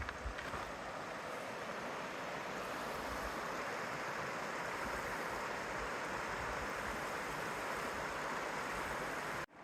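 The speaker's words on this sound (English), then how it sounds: "This is the West Walker River." The West Walker River rushes in a steady, dense roar of flowing water, loud and close, beside snowy mountain slopes, with no voices, cutting off abruptly at the end.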